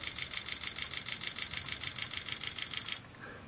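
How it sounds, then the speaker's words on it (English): An HTC One X smartphone camera in burst mode fires a rapid, steady burst of electronic shutter clicks, about seven per second, loud and close, stopping abruptly after three seconds. "if you hold down the still photo icon, it will take a burst mode"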